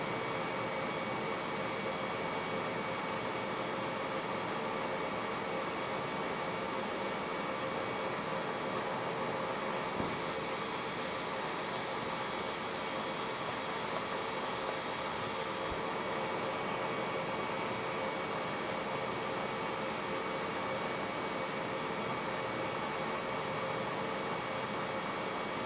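Counterboring tool on a machine cutting into a Chevy inline six cylinder head, a loud steady broadband machining roar holding for the whole stretch with a slight shift in tone partway through.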